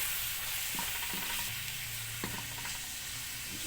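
Santol cooking in a pan sizzles steadily while a utensil stirs it, with occasional soft scraping knocks under the constant frying hiss.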